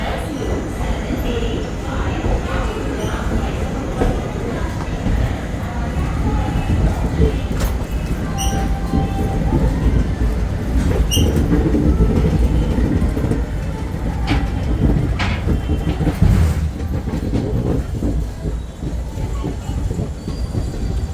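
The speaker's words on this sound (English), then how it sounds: "So that was our train's delayed departure from Kacheguda railway station" The 17064 Ajanta Express pulls out of Kacheguda railway station in Hyderabad, departing late, with a loud continuous rolling rumble, clacking wheels over rail joints and occasional metallic squeals and clanks, heard up close from on board.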